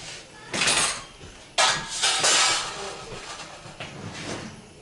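A whisk works through banana pudding mixture in a pot over high heat, giving a few bursts of scraping and rattling metal strokes separated by quieter gaps, close and without speech.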